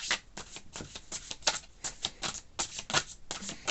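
Oracle cards being shuffled by hand, a steady run of quick papery riffles and soft slaps repeating at close range with no voice over them.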